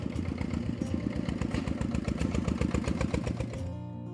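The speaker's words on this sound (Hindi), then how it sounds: "एक बार एक ट्रैक्टर बोरी लाद कर वहां आई।" A tractor loaded with sacks arriving, its engine chugging loudly in a steady rapid putter that cuts off abruptly near the end.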